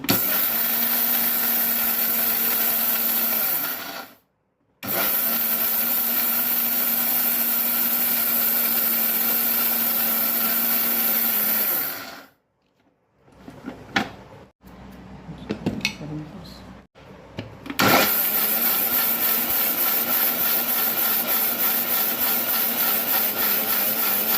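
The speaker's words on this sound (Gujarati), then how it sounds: "હવે આ મિક્સર ચાલુ કરવું." An electric mixer grinder whirs loudly as it crushes fennel seeds, cardamom and poppy seeds into a fine powder, running in steady bursts with short pauses and jar rattling between them.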